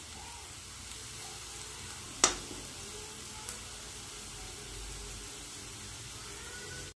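Prawns fry with chili powder in a pan, giving a steady quiet sizzle throughout with one sharp clink partway through and a fainter knock later.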